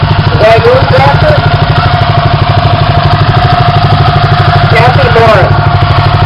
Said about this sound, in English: This is an International 756 owned by Justin and Christina Dent.